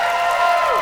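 A comedy special audience at a JCC cheers and applauds in a short, dense burst of whoops and clapping that holds steady and slightly swells toward the end.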